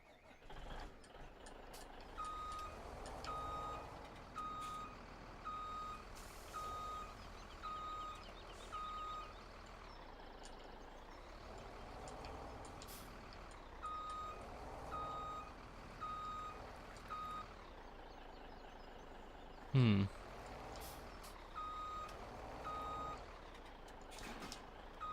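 Truck reversing beeps in the Farming Simulator 17 logging game, a steady repeating high electronic beep over a low idling diesel engine rumble, with a brief sharp clunk near the end.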